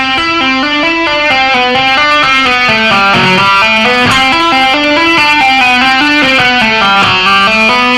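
Heavily distorted electric guitar plays a slow, legato rock lick of hammer-ons, pull-offs and first-finger slides, notes flowing in a continuous wavering line, loud and sustained with no speech.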